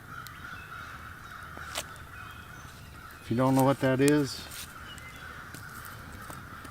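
A voice imitates the hooting call of an owl at a night camp, a short loud two-part hoot rising over quiet woodland ambience, with brief talk beforehand.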